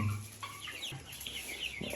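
Ukrainian Black hens in a backyard flock give several soft clucks and chirpy calls that rise and fall in quick succession.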